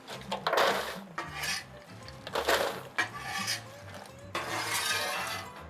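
A big pan of Chex Mix is handled on a Blackstone griddle, with repeated loud metallic scraping and rattling bursts of pan, utensil and snack mix, close up and with no talking.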